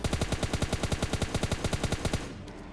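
Automatic gunfire in the mobile video game PUBG Mobile Lite, a steady, loud rapid burst of about twenty evenly spaced shots that stops abruptly near the end.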